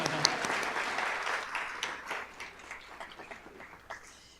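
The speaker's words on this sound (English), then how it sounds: "This is the part where they say applause." Applause from the crowd at a college nursing pinning ceremony, a dense wash of clapping that starts strong and gradually thins and fades over a few seconds.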